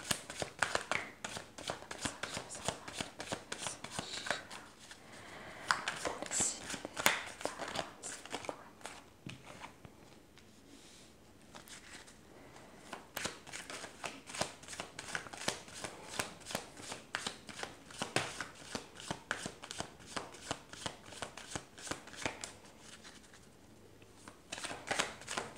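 Tarot cards are shuffled by hand in a steady, close, quiet run of riffling and sliding card flicks lasting the whole stretch, with no voices over it.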